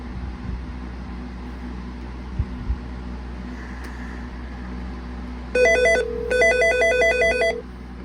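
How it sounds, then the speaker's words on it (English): A Nortel i2004 IP phone's Meridian 1 electronic ringtone chirps in two quick bursts over a low room hum, loud and close. "So as you can hear, I have that set to the Meridian 1 ringtone."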